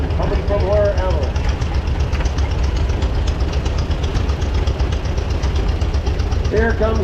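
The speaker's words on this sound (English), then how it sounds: "Following him is Larry Laidlaw, 1952 John Deere M" A 1952 John Deere M tractor runs steadily in a parade, its low, even engine chugging throughout at close range, with voices talking over it.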